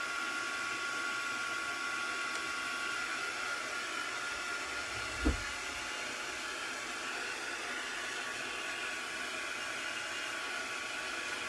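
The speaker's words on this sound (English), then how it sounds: "So I'm drying this with my heat gun so that when I go and heat press it, it's dry." A heat gun drying ink on a print before heat pressing blows a steady, loud airy whoosh the whole time, broken only by one brief thump midway.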